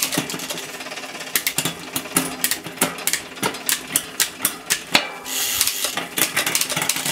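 Derailleur on a downhill mountain bike shifting gears, a run of sharp mechanical clicks and ticks in quick succession against a steady whirring hiss of the spinning drivetrain.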